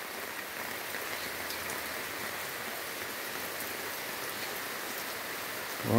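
A thunderstorm downpour hisses in a steady, unbroken wash of heavy rainfall, loud and close, holding even for several seconds before a brief knock at the very end.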